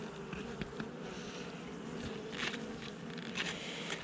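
Honey bees from a swarm colony in town buzz steadily and close, a dense insect drone with brief louder passes as individual bees fly near.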